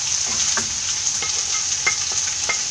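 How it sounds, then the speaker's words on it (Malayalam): Cabbage and capsicum stir-fry in a hot pan for egg noodles, giving a steady close sizzle broken by scattered light scrapes and clinks of stirring, with no voices. "ഇതിലേക്ക് ക്യാബേജ്, ക്യാപ്സിക്കം ഇട്ട് കൊടുക്കാം."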